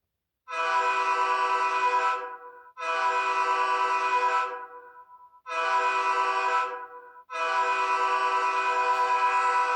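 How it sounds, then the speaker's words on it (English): Horn of an HO scale Rapido C36-7 model diesel locomotive, four long sustained blasts of a few seconds each separated by short gaps, a loud chord-like tone heard close with nothing else. "We'll blow the horn."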